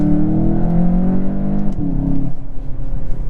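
A 2023 Volkswagen Jetta GLI in sport mode accelerates on the autobahn, its engine note climbing steadily and loud, then dipping briefly at a shift before pulling again.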